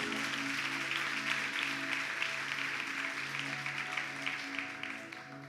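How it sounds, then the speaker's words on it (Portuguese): Church congregation applause, soft and steady, under sustained keyboard or music tones, fairly distant and gradually fading toward the end. "Você pode aplaudir o nome de Jesus?"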